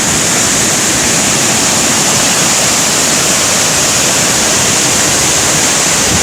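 Kapuzbaşı waterfall throws up spray in a steady, loud roar of rushing water that fills the whole stretch without a break, with no voices.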